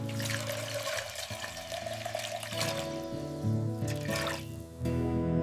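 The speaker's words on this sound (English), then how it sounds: "Pouring fresh water to boil our eggs." Fresh water is poured into a cooking pot to boil eggs, a steady splashing pour close by over a low background tone, with no talk.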